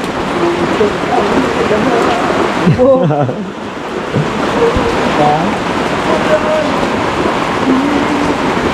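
Rain falling as a steady broadband hiss throughout, with people talking over it.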